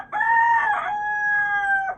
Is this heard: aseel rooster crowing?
yes